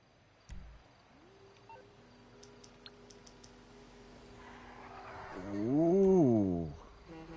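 In-game phone sounds from a GTA game: a few tiny beeps and a steady electronic tone, then a loud warbling ringtone that rises and falls before fading.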